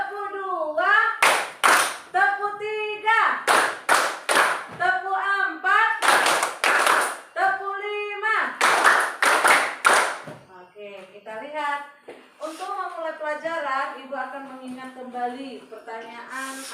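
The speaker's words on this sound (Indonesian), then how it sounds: "Tepuk 1, tepuk 2, tepuk 3, tepuk 4" Children in a classroom chant a counting call and answer it with rhythmic bursts of hand claps, the claps falling in loud grouped volleys between stretches of chanting voices.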